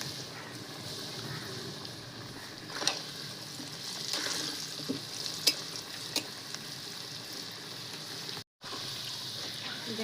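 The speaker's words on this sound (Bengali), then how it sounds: "দেখেন আলুটা খুব ভালো করে ভেজে নিচ্ছি লাল লাল করে" Potatoes fry in oil with turmeric and salt, a low continuous sizzle broken by occasional faint scrapes and clinks of stirring, fairly quiet throughout.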